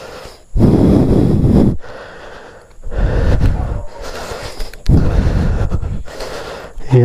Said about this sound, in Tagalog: Hinihingal ako dun ah.